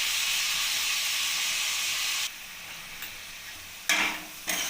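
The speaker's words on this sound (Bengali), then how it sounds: "টমেটো সস আর সোয়া সস দিয়ে আমি ভালোভাবে নাড়িয়ে নিয়েছি।" Tomato sauce and soy sauce stirred into frying capsicum, green chilli and garlic; a loud sizzle that drops in level midway, followed by a few sharp bursts of spatter and scraping.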